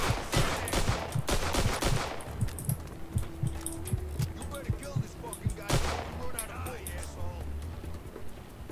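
Gunfire from a Mafia II Definitive Edition shootout: sharp shots crack in irregular bursts through the first seconds, then thin into scattered single reports over a steady low game rumble.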